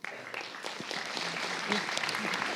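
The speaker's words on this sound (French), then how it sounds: "On n'est pas obligé d'applaudir à chaque fois." Audience of high school students clapping at a literary prize reception in a hall, steady moderate applause building slightly, somewhat distant and faint.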